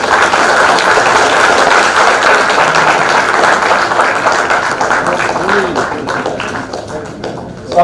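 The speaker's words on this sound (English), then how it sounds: "Give them a big round of applause." A big round of applause from guests and audience at a book release event for a Telugu science history book, dense sustained clapping that gradually thins toward the end.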